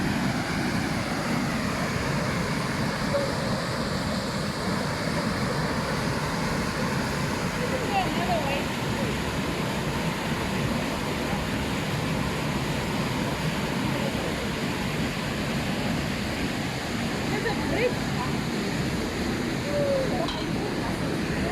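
A small river flowing along the Hennops hiking trail makes a constant, dense rushing wash, close and steady from start to finish, with faint voices now and then.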